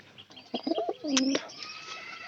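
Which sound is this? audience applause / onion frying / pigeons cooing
pigeons cooing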